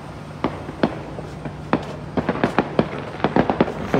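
Fireworks for US Independence Day pop and crack from several directions, sharp irregular bursts spaced unevenly and then clustering faster, heard at moderate distance over a quiet night hum.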